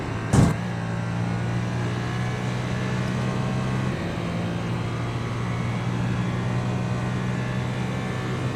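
A Ferrari LMH race car in iRacing at the Daytona 24, engine held at full throttle, produces a steady, sustained tonal roar with a brief sharp knock at the start, with no voices.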